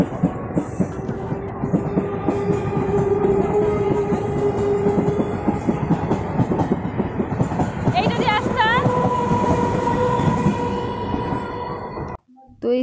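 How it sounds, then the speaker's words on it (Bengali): A train at a railway station on a rainy morning: loud, steady rumble and clatter of rail cars, with a few brief high tonal chirps near the end and a short sudden drop before the noise resumes. "তো আমরা স্টেশনে নেমে গেছি ট্রেন থেকে, যে আমরা এই ট্রেনটা এসেছিলাম।"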